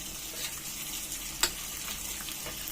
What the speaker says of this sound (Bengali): ঘিটা একটু গরম করে নিচ্ছি। আর এতে দিয়ে দিচ্ছি আমি কিছু কাজু আর কিশমিশ।